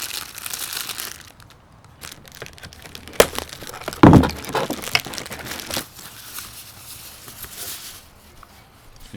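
Door hardware packaging is cut open and unpacked, with plastic and cardboard crinkling, rustling and handling sounds and a couple of sharper cracks and snaps midway, close and fairly quiet throughout.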